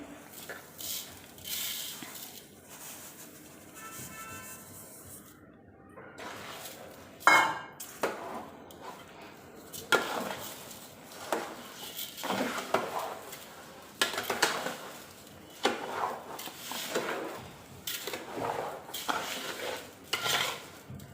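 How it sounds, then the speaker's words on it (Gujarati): Sugar being stirred into a large batch of semolina prasad with ghee in a pan, a spoon scraping and clinking against the metal in irregular near strokes, with no talk. "ખાંડ ઓગળી અને ઘી છૂટું પડે ત્યાં સુધી હલાવતા રહીશું."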